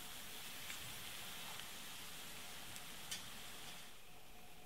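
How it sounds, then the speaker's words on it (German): Crêpe batter frying in a pan, a steady fine sizzle with soft crackling held at an even, quiet level, with no voices. "Die Crêpe backen, bis die Unterseite leicht gebräunt ist."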